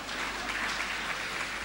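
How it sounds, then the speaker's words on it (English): A conference audience gives itself a round of applause, a dense, continuous wash of clapping from many hands, steady and fairly loud throughout. "clap for yourselves"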